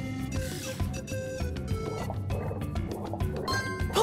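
Cartoon water splashing and liquid gurgles as a pup swims in a Paw Patrol video game, light repeated splashes and drips mixed with bright game music tones.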